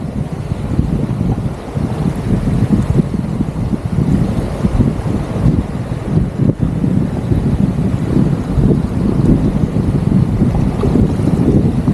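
Strong sea wind buffets the microphone at the shore during shrimp catching, a continuous low roar, loud and rumbling throughout with no talking.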